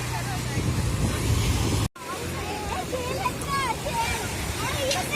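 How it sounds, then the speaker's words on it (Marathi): Large ocean waves break on the beach at Alibag, making a loud, continuous roaring wash with a brief dropout partway through. People talk nearby over the surf. "बघ आईस किती मोठ्या मोठ्या लाटा आली आता मागाशीच एक आली मोठी लाट"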